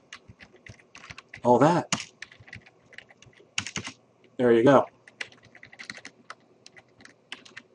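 Computer keyboard typing while writing Java code comments, light scattered key clicks in short runs, with someone speaking briefly in between.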